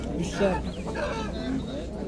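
A rooster at a market clucks repeatedly amid people talking and bargaining nearby, the bird's calls mixed into the lively crowd chatter.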